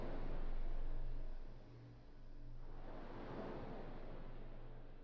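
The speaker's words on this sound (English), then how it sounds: "You can hear the ocean breeze in there, can't you?" Ocean waves and a sea breeze in a video game setting, a soft steady wash of surf with wind rushing, easing briefly before swelling again, fairly faint with no speech.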